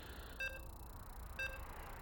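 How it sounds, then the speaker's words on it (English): Two short electronic beeps about a second apart, faint and clean over a low background hum, as a StarCraft 2 match loads in a ByuN versus trigger Terran versus Protoss tournament game. "You can hear the beeps. We're loading into game number 2."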